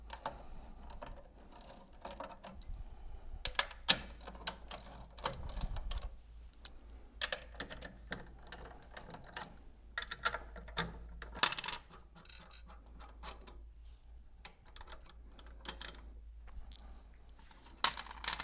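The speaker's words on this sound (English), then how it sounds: "So next we're going to remove the nuts on the motor adapter." Nuts being removed from the motor adapter of a Goulds Water Technology pump during seal replacement: a steady run of small metallic clicks and ratcheting, with occasional sharper clinks, close and fairly quiet, without talk.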